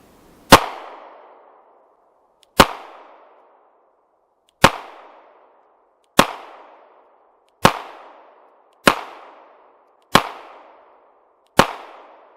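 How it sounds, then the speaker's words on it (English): A Glock 43 pistol fires eight sharp, loud single shots, each with a short decaying echo, spaced roughly one to two seconds apart in a steady rhythm. "let's put some rounds down range"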